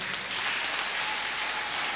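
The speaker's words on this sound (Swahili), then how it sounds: "Wanaume tusimame tupigie Bwana makofi" A church congregation at a Kikuyu wedding jubilee service claps together, a dense, continuous burst of many hands applauding, loud and full, filling the whole moment without audible speech.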